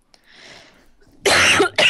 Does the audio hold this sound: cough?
yes